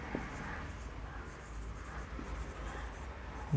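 Chalk or marker scratching across a board in a Class 6 maths lesson on large numbers, a faint steady scrawl running through a quiet classroom with occasional small taps.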